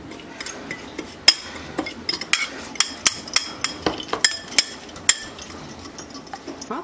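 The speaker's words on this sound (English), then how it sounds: "we're just going to mix this together, and we will have a beautiful dry rub for pork" Spices for a pork dry rub stirred together in a bowl, a series of close light clinks and taps from the utensil against the bowl in an irregular rhythm.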